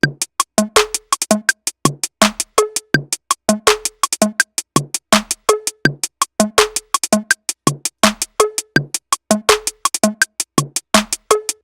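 A looping hip-hop beat plays alone, with steady punchy kicks and crisp snares and hi-hats in a repeating groove, loud and close.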